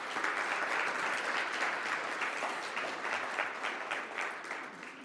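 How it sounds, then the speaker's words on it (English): An audience at the EUROUT 2022 business conference gives an opening-session round of applause, a full, even clapping that stays steady and eases slightly toward the end, heard at a moderate distance. "So big round of applause for Out in Business Club."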